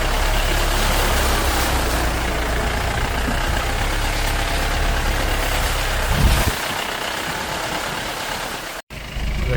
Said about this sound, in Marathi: बघा गाडी समोर आली, त्यांनी ती गाडी मागे घेतली आहे